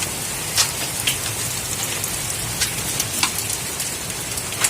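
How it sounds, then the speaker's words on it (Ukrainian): Steady rain falls in an outdoor garden in July, a dense even hiss with scattered sharper drop impacts that may include hail, no voices. "Дощ це добре, але град не зараз."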